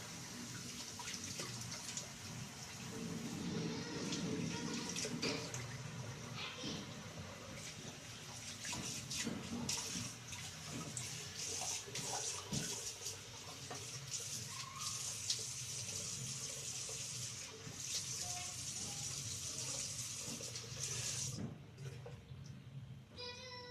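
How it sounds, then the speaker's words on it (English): Tap water runs steadily into a sink while a face is rinsed after a wet shave, with soft splashing throughout; the sound is quiet and fairly close. "let me rinse my face"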